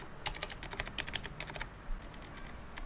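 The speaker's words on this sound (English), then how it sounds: "it's not the smoothest clicky switches out there that I encountered" Someone types quickly on an NMB RT8756CNW keyboard with black clicky Space Invader switches, giving a close, sharp, steady patter of crisp key clicks with a brief pause partway through.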